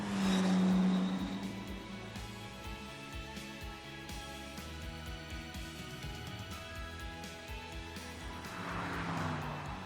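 A BMW with a V8 engine in The Grand Tour Game, a steady engine drone that swells near the start, holds a sustained tone through the middle, then rises again toward the end, with no talking.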